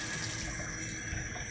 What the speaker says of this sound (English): we're going to go ahead and turn water on the kitchen sink